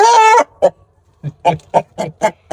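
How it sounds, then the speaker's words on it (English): A rooster gives one long call followed by a run of short, close clucks in an uneven rhythm, each clear against near silence. "The rooster is not too happy."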